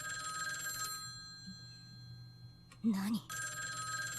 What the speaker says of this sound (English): I thought I'd never be so glad to hear a phone ring in my life